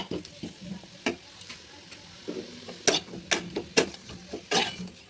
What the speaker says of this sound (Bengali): তারপরে একটু নাড়াচাড়া দিয়ে তারপর পেস্ট করব